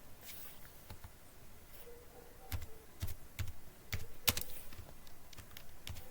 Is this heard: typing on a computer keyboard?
yes